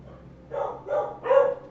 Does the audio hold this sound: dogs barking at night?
yes